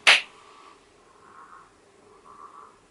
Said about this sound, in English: Don't mind the frogs.